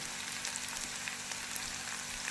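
Curry leaves fry in hot oil for a chili chutney, a dense, even crackle and sizzle that holds steady throughout with no voices.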